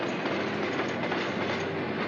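Continuous rumble and rattle of a Sydney tram rolling along tracks, steady and fairly close, with faint rhythmic clacking.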